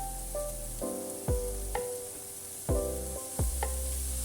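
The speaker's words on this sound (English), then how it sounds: "When the pepper is softer, then add in broccoli and mushrooms." Pepper, broccoli and mushrooms stir-fried in a hot pan. A constant sizzle runs under a steady hum, broken by several spaced clanks of a utensil against the pan.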